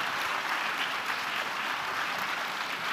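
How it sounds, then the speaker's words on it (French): Steady, dense audience applause for speakers at the close of a conference panel on disinformation, a continuous even patter of many hands lasting throughout without talk. "j'allais vous demander d'applaudir"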